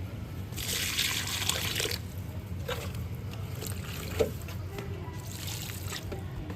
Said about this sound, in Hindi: प्लांट में पानी डालने को बोले, इस वाले पॉट से डाल रहे हैं